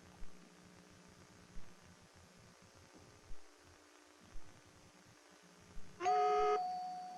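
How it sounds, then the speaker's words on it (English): Faint background noise with a few soft thumps, then a short electronic quiz buzzer tone sounds loudly near the end, at a high school quiz competition. "the buzzer rang just before you did, Elizabeth"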